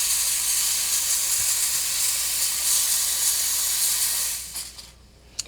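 Breville Dual Boiler espresso machine steam wand blasting a steady, loud broadband hiss of steam for about four seconds, then shutting off abruptly with a few small sputters and no back-flush sound afterward.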